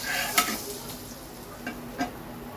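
Eggs frying in butter in a pan give a light, steady sizzle, with a few sharp scrapes and taps of a utensil against the pan.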